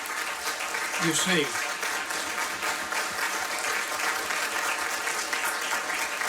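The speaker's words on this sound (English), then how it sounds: "The veterans, we want to recognize you and give you an applause." An audience at an outdoor Veterans Day ceremony in Bella Vista, Arkansas applauds veterans with dense, sustained clapping that carries steadily throughout, while a brief spoken remark rises over the noise.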